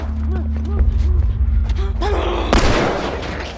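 Gunfire in The Last of Us on a hard difficulty setting: a sudden loud shot bursts out near the end, following stretches of game noise and a player talking.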